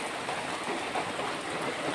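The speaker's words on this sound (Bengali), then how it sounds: "বৃষ্টি হচ্ছে রে বাবা" Steady rain falls outside during a wet monsoon day, an even, continuous broadband hiss of drops on surfaces with no breaks, moderately loud and alone.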